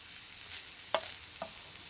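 A faint, gentle sizzle of a vegetable dinner cooking slowly in a pan, with a couple of soft clinks or stirring taps over the low frying hiss.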